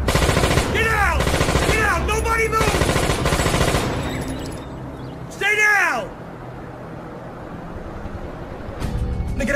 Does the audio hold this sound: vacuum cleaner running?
no